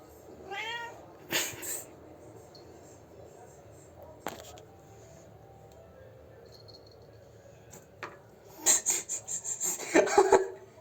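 A cat meows several times during bath time, with a cluster of calls early on and a louder burst of repeated cries near the end, amid splashing, rubbing noises and people talking.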